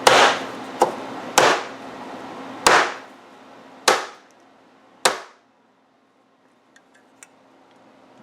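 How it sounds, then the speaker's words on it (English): A valve cover breather part from a Honda EU3000i generator is struck against a countertop in six sharp, ringing knocks at uneven intervals, each decaying quickly, close and loud, followed by near silence with a couple of faint ticks. "What I'm trying to do is hit it against the countertop so that this flange hits the countertop"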